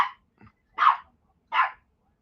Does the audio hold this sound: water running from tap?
no